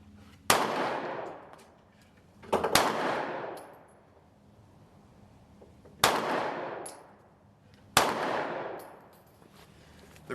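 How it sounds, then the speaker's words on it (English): Four sharp, loud 9mm shots from a Smith & Wesson CSX micro compact pistol, fired at spaced intervals, each crack trailing off in a ringing echo. "First shot, I can already feel this gun wanting to creep up out of my hand."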